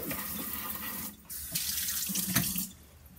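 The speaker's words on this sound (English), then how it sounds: "I just give them one more good rinse over." Tap water runs steadily into a kitchen sink while freshly cleaned eggs get a final rinse, with a short pause in the flow and splashing as the eggs pass under the stream.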